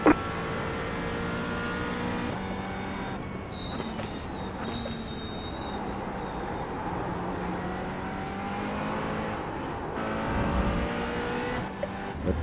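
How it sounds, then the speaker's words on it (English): A faster prototype race car closes in and passes in a racing game at Mugello, its engine droning steadily with shifting harmonics over a constant background of car noise. "Faster car coming up quick."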